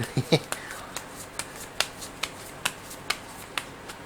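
A deck of fortune-telling cards is shuffled close up, with a burst of rustling and then a steady series of about a dozen crisp, evenly spaced card snaps. A quiet voice is heard at the start.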